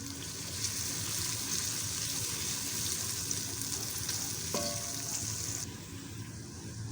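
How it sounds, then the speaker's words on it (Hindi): Onions frying in about half a cup of oil in a pan, a steady loud sizzle running the whole time with a brief clink partway through and a slight drop in intensity near the end. "आधा कप ऑयल लेके ना मैं इसके अंदर ना प्याज़ों को ना हल्का सा पिंक कर लूँगी"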